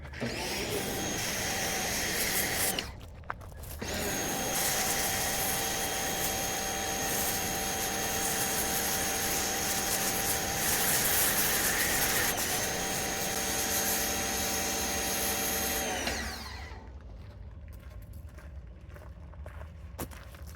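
Pressure washer with a foam cannon spraying foam onto a Ford F250, a steady loud hiss and motor whine running close and unbroken for about thirteen seconds after a brief pause, then cutting off.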